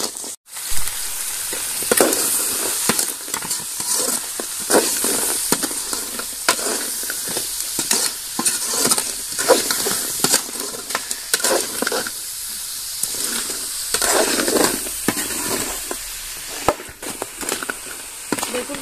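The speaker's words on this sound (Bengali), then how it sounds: "আমি কাঁকড়াগুলো কিছুক্ষণ ভেজে নিয়েছি" Crabs frying with browned onions in a pan while being stirred: constant loud sizzling hiss broken by repeated scraping stirs throughout.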